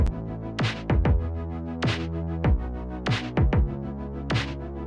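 A sequence of plucked chords from a chord progression, sharp attacks, roughly eight strums spaced unevenly, each ringing out with sustained harmonic tones under a steady low bass drone.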